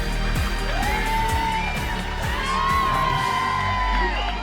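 An excited audience at a Take That tribute show cheers, whoops and yells in a sustained noisy roar, with rhythmic thumping underneath.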